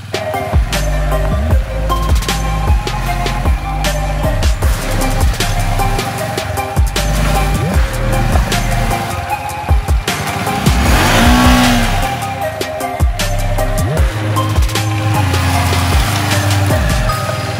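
A Bajaj Dominar motorcycle revs hard, climbing a muddy off-road slope, its engine surging and falling repeatedly in loud, close bursts with no talk over it.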